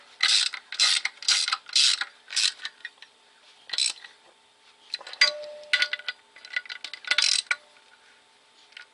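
A ratchet snugs down 13 mm bolts on a Volkswagen MK6 GTI air-suspension bag assembly: bursts of rapid metallic clicking come close and loud, then shorter intermittent clicks and clinks follow, with no talking.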